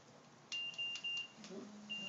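A small electronic beeper sounds several quick, high, faint beeps in a quiet room, followed by a low electronic tone.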